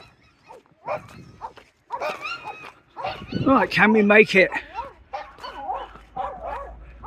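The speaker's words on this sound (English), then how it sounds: "Well, I don't think those dogs like me very much." Several dogs bark and yip at close range near a riverside pontoon in a park, the barks arriving in loud bursts that overlap someone talking as he walks past.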